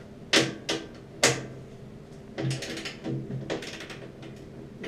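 Belt tensioner being loosened with a wrench during a light commercial install: a few sharp metallic clicks and ratcheting knocks, two louder near strikes early, then a cluster of lighter rattling clicks.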